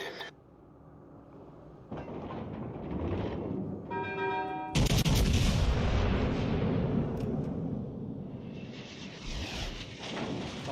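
An Amagi battleship fires HE shells in World of Warships Legends: a heavy booming salvo crashes in after a short tonal chime, leaving a loud rumbling roar that slowly fades, with no talking.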